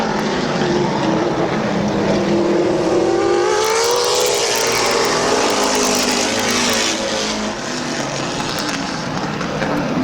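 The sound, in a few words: race cars racing at Midvale Speedway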